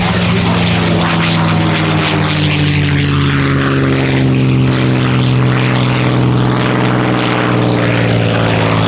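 P-51H Mustang, the last Mustang model built, flying at an airshow: a loud, sustained propeller-engine drone with a deep throbbing rumble, close and powerful, holding steady throughout.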